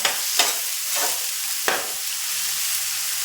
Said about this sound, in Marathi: कांदा थोडासा लालसर करून घ्यायचा आहे।